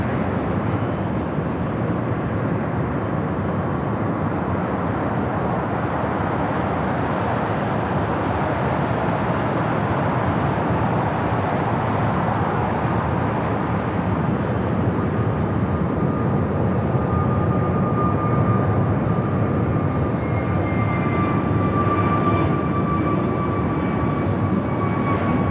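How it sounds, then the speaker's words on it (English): GE90 turbofans spooling up on an airliner at night at LAX, a broad steady roar under a rising high whine that sharpens toward the end, continuous and fairly loud without talk. "You can hear those G90s starting up."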